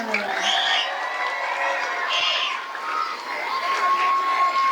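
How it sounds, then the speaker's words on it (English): Audience at a school music ensemble fall preview concert cheers, whoops and claps for a beginning orchestra, with children's shouts mixed in; continuous crowd noise, fairly loud and steady throughout. "Another round of applause for our beginning orchestra."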